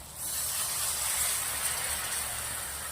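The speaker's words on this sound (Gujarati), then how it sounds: "હવે આપણે થોડું પાણી નાખીશું" A sharp, steady hiss bursts up as water is poured into hot masala with red chili in a pan, sizzling continuously for a few seconds.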